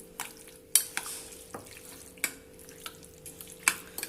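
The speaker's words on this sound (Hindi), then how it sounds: "ये चिकन डाल दूंगी मैं इसमें, और अब इसको मिक्स करूंगी।" Chicken is mixed into a thick yogurt marinade in a bowl, giving scattered wet squelches and sharp utensil clinks at uneven intervals over a quiet low hum.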